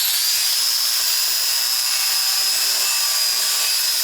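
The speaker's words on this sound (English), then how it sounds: "Now I'm going to be grinding off the paint so I can get a good ground for the welder." Grinder stripping paint off the steel of an Airstream trailer frame, giving a steady, harsh high-pitched whine that runs close and continuous, with no talking.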